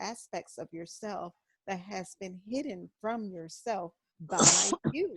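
A person speaks calmly in short phrases, then a single sharp, loud sneeze bursts out at the end.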